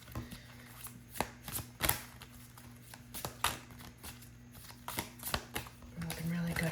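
Tarot cards shuffled and pulled from the deck, a quick series of soft riffling slaps and flicks close up, under a quiet speaking voice.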